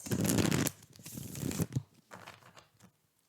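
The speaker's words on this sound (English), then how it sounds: "Do the 3 shuffles for the Geminis here." Tarot cards riffle and shuffle in several quick bursts, close and crisp, fading to quiet at the end.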